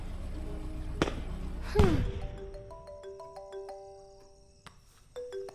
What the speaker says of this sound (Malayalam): ഒരു ദിവസം അവൻ എന്നെ ഫോൺ ചെയ്തു